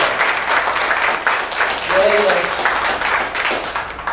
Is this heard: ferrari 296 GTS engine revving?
no